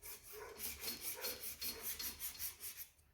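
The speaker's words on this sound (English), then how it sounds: "what I like to do is I come back to where I was sanding" A sanding block rubbed over high build epoxy primer on a complex curved shape, giving a rhythmic, raspy back-and-forth scraping with about a dozen even strokes, close and steady, with no talking.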